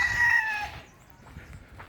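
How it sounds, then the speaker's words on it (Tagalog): A rooster crows loudly among chickens in an outdoor park enclosure, one long call fading out, followed by faint clucking and low background rustle. "Tapos yun, may mga manok pa rin po sa loob."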